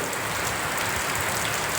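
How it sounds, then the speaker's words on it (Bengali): Rain falls steadily in a close, even hiss of drops striking surfaces, with no voices. "আমি কিন্তু পুরো বৃষ্টিটাই তুলে দিলাম"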